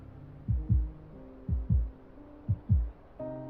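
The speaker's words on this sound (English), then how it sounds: "The sound of my heartbeat is amplified in my ears." A slow, steady double-thump heartbeat effect in the romance video game Love and Deepspace, three paired low beats spaced evenly, soft and muffled with a faint hum behind, no talk.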